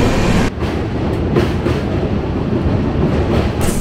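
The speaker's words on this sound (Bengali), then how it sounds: "ট্রেন পৌঁছালো কুমারডুবি।" A train rumbles loudly and steadily close by as it arrives at Kumardubi station in India, wheels clattering over the rails, with no voices.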